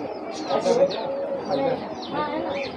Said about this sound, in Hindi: कबूतर है कबूतर।